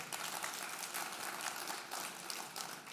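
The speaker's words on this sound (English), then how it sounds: "I hear a hand clap over here." Clapping from a conference audience, a dense, steady patter of many hands heard at a moderate distance without a break.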